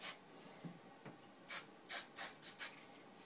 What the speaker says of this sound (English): I take the hairspray,